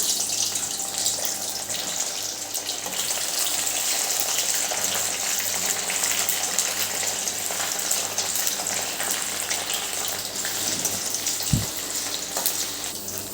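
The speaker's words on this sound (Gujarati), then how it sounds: "બટાકા અને રીંગણ, આ બધાને મેં લાંબી લાંબી સ્લાઇસમાં કાપી લીધા છે। તો હવે આને આપણે તળી લઈશું।" Long slices of potato and eggplant deep-frying in oil over a medium gas flame, a loud, continuous close sizzle and bubbling with a brief clunk near the end and no voices.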